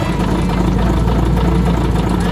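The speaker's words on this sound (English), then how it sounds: "You can listen to the engine." A newly fitted engine in a 1997 Hyundai truck idles steadily and loudly, a continuous low rumble with a slight knocking rhythm and no voices.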